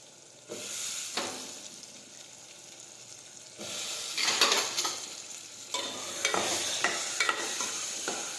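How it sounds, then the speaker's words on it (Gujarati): Chopped eggplant and potatoes fry in a hot pan, making a steady sizzle while a spoon stirs and scrapes in bursts, close and fairly loud, with no voices. "હવે આપણે સમારેલા રીંગણા અને બટેટા નાખી દઈશું."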